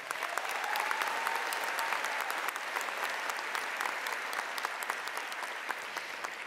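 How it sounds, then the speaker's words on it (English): Graduation audience at a high school commencement breaks into sustained, steady applause, a dense wash of many hands clapping throughout with no voices over it. "Please give these students a round of applause."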